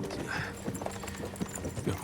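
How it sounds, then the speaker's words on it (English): A horse-drawn carriage rolls along in Kingdom Come Deliverance 2, its hooves clip-clopping at a steady walking rhythm beneath people talking. "we could make the horses go a little faster"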